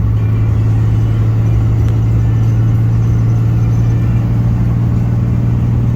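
Heavy, steady diesel truck engine rumble heard close and loud from inside the vehicle, a constant low drone with little change in pitch throughout.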